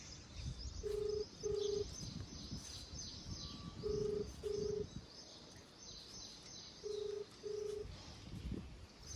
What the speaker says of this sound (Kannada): ನಿಮ್ಮ ಮುಂದೆ ಒಂದು ಫೋನ್ ಹಚ್ತೀನಿ ಅವನೀಗ